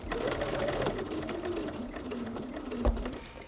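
Sewing machine stitching a chenille quilt, a close, continuous motor hum and rapid needle chatter running steadily with a brief knock near the end.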